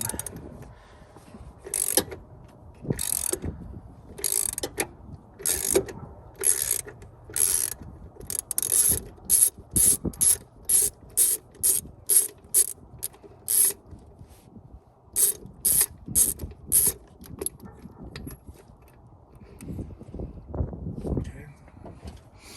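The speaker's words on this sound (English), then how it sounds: "This one will be a 19mm socket. A deep socket should fit right over it. And just remove it." Rapid series of ratchet clicks from a 19mm deep socket loosening a MAP or IAT sensor on a 1999 Jeep Cherokee XJ, coming in quick bursts with short pauses, close and clear.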